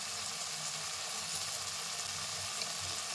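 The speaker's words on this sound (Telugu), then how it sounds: "కరివేపాకు పేస్ట్ అంతా బాగా రోస్ట్ అయిపోయి అండ్ ఆయిల్ అనేది సపరేట్ అయ్యే వరకు మనం ఇది రోస్ట్ చేసుకుంటాము" Curry leaf paste with turmeric and salt roasts in hot oil, a steady close sizzle and crackle of frying that runs unbroken throughout with no voices.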